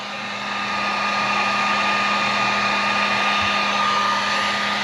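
A heat gun blows a steady, loud whoosh of hot air over heat-shrink tubing on a speaker wire connection, with a constant hum lasting the whole time and no speech.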